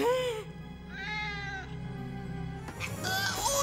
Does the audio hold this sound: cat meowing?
yes